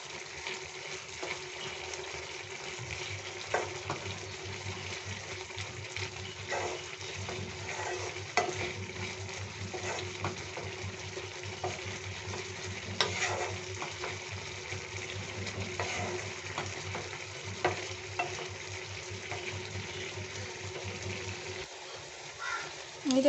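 Spicy Maggi noodles with masala being stirred in a pan over a gas flame. A soft, continuous sizzle runs the whole time, with repeated scraping and tapping from the stirring. The sound is faint and close.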